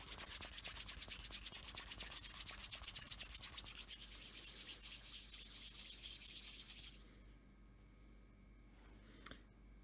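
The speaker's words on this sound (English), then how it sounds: "I'm just gonna rub it." Steady, close rubbing of a small resin charm, fast rhythmic friction strokes for about seven seconds, then fading to quieter, slower rubbing with a faint tap near the end.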